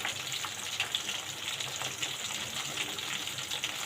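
Water is poured off and drained while cooking bean sprouts (toge), a steady broadband rush close by with no talk.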